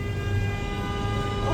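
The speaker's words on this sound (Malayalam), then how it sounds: "ആ ബസ് വരുന്നു ബസ്സല്ലേ, സോറി, മെട്രോ വരുന്നു" A metro train pulls into a station with a steady, continuous low rumble and faint mechanical hum that holds level throughout, no voices.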